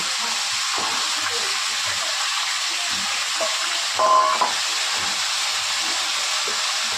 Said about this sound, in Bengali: আমি এইগুলো ছেড়ে দেবো, এইগুলো একটু ফ্রাই হবে